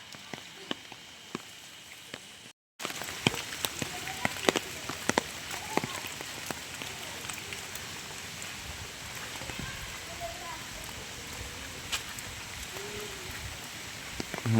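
Steady rain pattering in a riverside village by the Kopotaksho river, a constant close hiss with scattered drops, after a brief cut near the start.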